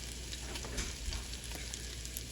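Meat browns in a pan for Cajun jambalaya with a faint, even sizzle and soft crackle, heard alone.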